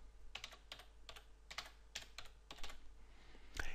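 Typing on a computer keyboard, a string of quick, crisp key clicks in an irregular rhythm, close and fairly quiet with a slightly louder final tap.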